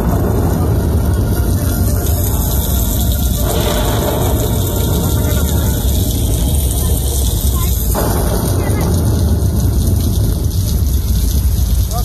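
Steady heavy rain fills a thunderstorm effect, with broad low rumbles of thunder rolling underneath and two brighter swells of thunder around a few seconds apart, continuous and loud throughout.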